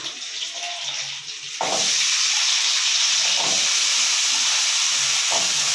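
Cumin seeds hit hot oil with a sudden loud, steady sizzle that fills the rest of the moment, close and continuous, following a quieter stretch with faint clinks.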